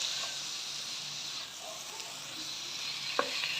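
Cabbage curry sizzles steadily in a hot pan as tamarind pulp is stirred in, giving a continuous close hiss of frying with faint scrapes and one small clink of the spoon.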